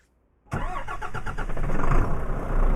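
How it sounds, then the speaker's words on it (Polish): An old Italian V8 truck engine in Euro Truck Simulator 2 cranks after a moment of silence, catches and settles into a loud, rough, throbbing idle close by. "Włączę silnik"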